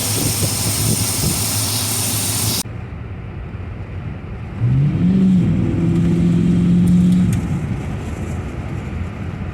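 A car engine fitted with a small Holley 8450 2-barrel carburetor and electronic ignition, idling steadily and then revving up for a few seconds before settling back, heard fairly close with no talking.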